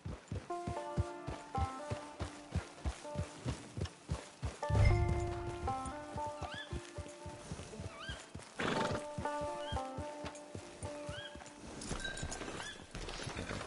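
A horse whinnies loudly over rhythmic clip-clopping hooves in Red Dead Redemption 2, then more neighs follow as the hoofbeats slow and fade, all fairly close.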